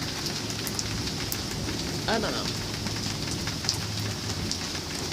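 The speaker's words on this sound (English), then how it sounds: "My roof leaks when it rains this much." Heavy rain patters steadily on a leaking roof, dripping through onto a person sheltering by a wall. A brief spoken remark breaks in partway through.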